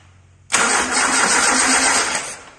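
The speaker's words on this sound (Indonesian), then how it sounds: "Permasalahan video ini adalah pengapian tidak ada pada saat di starter." A car engine cranks on its starter but fails to fire because the ignition gives no spark; a loud, steady churning starts abruptly and runs for about two seconds before easing off, with no voices.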